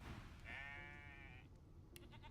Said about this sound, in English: Oh, there's a sheep here.